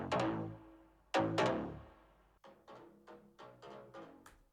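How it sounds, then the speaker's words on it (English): Layered stereo synth bass run through a doubler: punchy plucked notes with quick decays, a few bold hits followed by a tighter, faster rhythmic run of shorter notes, alone without any voices. "So altogether, the bass sounds like this."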